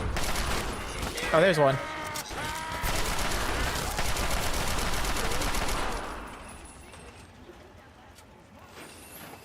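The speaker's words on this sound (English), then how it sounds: "Let's have some fun with the Chinese rifle." Rapid bursts of Chinese assault rifle fire in Fallout 3, loud and dense over the first six seconds with a voice speaking briefly, then fading to quieter ambience.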